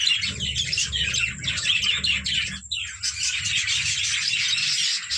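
Many small birds chirp and tweet busily around clay pot nests hung on a wall, a dense, steady chorus of calls close by with no talking.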